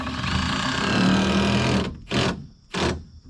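A power drill drives screws into pole barn roofing with one long, close, buzzing whir, followed by two short, sharp bursts separated by brief pauses.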